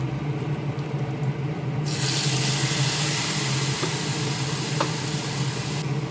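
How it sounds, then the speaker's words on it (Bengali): A little water used to rinse a bowl is poured into spice paste of turmeric and chili frying in a pan, a soft hiss and splash rising over a steady kitchen rumble for a few seconds. "দিচ্ছি বাটি ধোয়া সামান্য জল"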